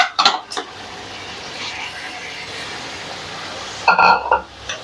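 Mutton trotters (paya) going into a cooking pot and frying, with metallic clatters near the start and again toward the end over a steady, soft sizzle.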